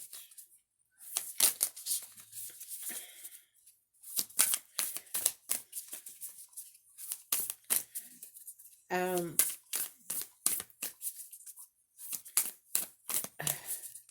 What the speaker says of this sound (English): I'm doing a lot of shuffling, right?